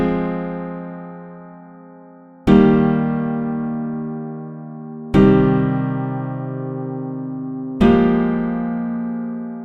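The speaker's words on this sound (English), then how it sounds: "this was basically just a basic kind of piano pattern that I came up with" Four sustained piano chords in a slow, dark, sad-sounding pattern for an indie rock beat, each struck firmly about every two and a half seconds and left to ring and fade before the next.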